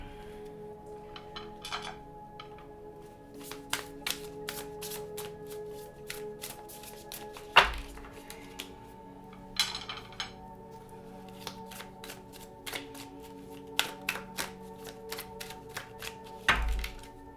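Crisp, rapid riffling and flicking of tarot cards being shuffled close by, in irregular bursts with a couple of louder thumps, no talking.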